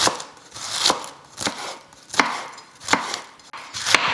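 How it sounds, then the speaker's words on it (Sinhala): A knife finely shreds white cabbage for coleslaw on a board: six sharp, evenly spaced chops about every half-second, close and clear with no talking. "මේක පුළුවන් තරම් හීනෙටම කපන්න මේක."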